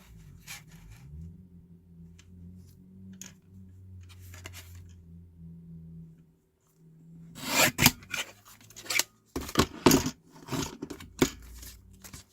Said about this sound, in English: I'll just cut this in half.